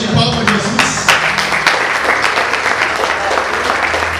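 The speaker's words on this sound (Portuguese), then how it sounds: "Dê uma salva de palmas a Jesus" Congregation at a church service applauds Jesus, a loud, dense burst of clapping that fills the room steadily throughout, with a few voices murmuring beneath it.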